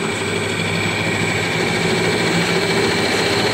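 A Rong Fu RF-19V variable-speed bench drill press runs steadily with its speed turned up, giving a loud, even motor hum and whine that never changes across the stretch, with no talking.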